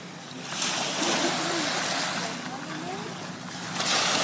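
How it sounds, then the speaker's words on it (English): Waves lapping and washing at a tiny beach, a broad, steady surf hiss with gentle swells, heavy wind buffeting the microphone, and a voice faintly underneath. "This is the world's smallest beach."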